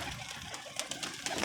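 Pigeons huddled against the cold coo softly nearby, a faint low murmuring with a few quick flutter-like rustles over a short stretch, no talk.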